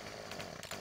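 A large chainsaw cutting small branches in the video game Farming Simulator 15, a loud continuous buzzing engine whine with slight pitch wobbles as it bites.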